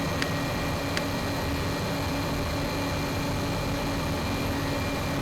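A police helicopter's turbine engine runs steadily before takeoff in Oxford, Alabama, a constant loud whine and rumble heard from inside the cabin, with two faint clicks near the start.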